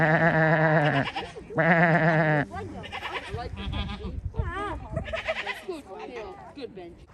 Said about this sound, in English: Bunch of goats